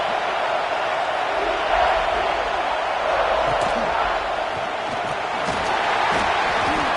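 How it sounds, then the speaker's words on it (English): Stadium crowd roar in a college football video game, a steady dense wash of cheering that swells slightly across the play, continuous and loud throughout with no clear talk on top. "this crowd is turning it up a notch"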